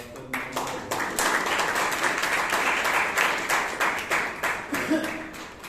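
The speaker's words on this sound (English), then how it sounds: "Let's give a round of applause" Audience applause at a Toastmasters club meeting in Bangalore, a steady wash of many hands clapping for several seconds, moderately loud with a faint voice surfacing near the end.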